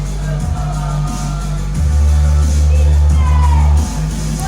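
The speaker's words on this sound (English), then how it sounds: "And you can hear what the crowd think about him." Wrestling arena crowd reacting to a wrestler during a David Francisco vs. Skye Smitson match: a steady, fairly loud roar of many voices with scattered shouts and whoops, and a low hum running underneath throughout.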